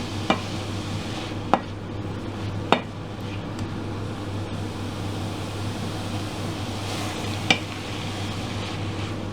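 Vegetables cooking in a pan for mac and cheese, a soft continuous sizzle under a low hum, broken by a few sharp clicks and taps of a utensil against the pan.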